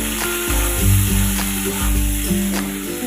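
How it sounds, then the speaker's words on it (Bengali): Sliced ridge gourd and potatoes fry together in an oiled pan as a loud, close sizzle, broken by a few stirring scrapes and surges as the pieces are turned, with no one speaking. "এখন আবারও ঝিঙ্গের আলুগুলো একসাথে ভালোভাবে ভেজে নেব।"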